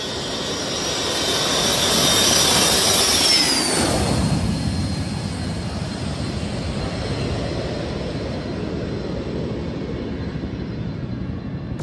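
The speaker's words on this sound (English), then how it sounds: "This plane taking off from a small dirt runway in a rainforest" A plane lifts off from a small dirt runway in a rainforest, its engines building to a loud, steady roar that stays strong and then settles into a sustained rush as it climbs away.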